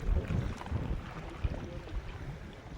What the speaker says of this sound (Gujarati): આ પવન છે ને એટલે જાર જોવામાં છે ને તકલીફ પડે